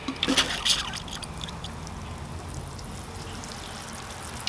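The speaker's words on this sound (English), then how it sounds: "The tree's nice and firm in the pot now, so it's time to give it a water." Water poured from a can onto a potted bonsai tree, a sabre leaf ficus, with a few splashy bursts at first that settle into a soft, steady trickle and patter close by.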